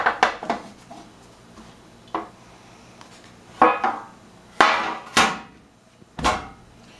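A greased pan holding a banana bread loaf is knocked and tapped, producing several sharp hollow metallic knocks spaced irregularly, close and fairly loud with quiet gaps between them.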